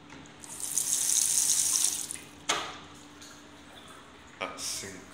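Tap water pours steadily into an old Lecico Neon sink in a Nottingham property for about two seconds, then stops. Two short splashing bursts follow, and the water sounds close by.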